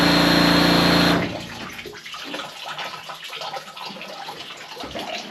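Slippery jack mushrooms are washed under a strong stream of running water that pours loudly for about a second, then cuts off, leaving faint quiet handling sounds and drips.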